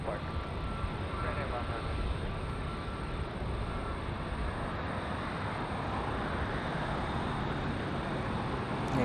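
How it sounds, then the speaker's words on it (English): GE90 jet engines of a heavy airliner at LAX produce a loud, steady roar that fills the whole stretch without letup. "Look at that, GE90 is so loud."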